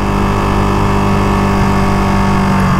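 A 2023 Ducati Panigale V2 Bayliss Edition motorcycle engine holds a loud, steady drone with a strong low hum under sustained throttle, with no voice and no change in pitch.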